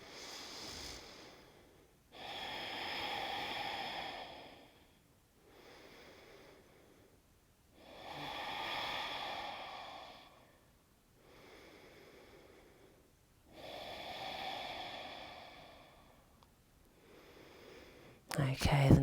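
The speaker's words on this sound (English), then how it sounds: "Let's take 3 deep breaths." Three slow, deep breaths taken during a yoga flow, each a long airy inhale and exhale rising and falling in steady cycles, soft and close in a quiet room.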